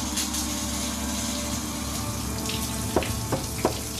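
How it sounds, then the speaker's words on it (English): Shower water runs steadily as a broad, continuous hiss with a low pump-like hum beneath, holding an even level throughout, with a few brief clicks near the end. "Hello, I'm in the shower."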